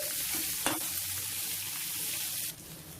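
Potato pieces frying in oil with onion, slit green chillies and fresh curry leaves for a potato stir-fry, a steady close sizzle with an occasional stir, dropping slightly quieter near the end.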